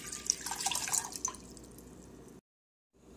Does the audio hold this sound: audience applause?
no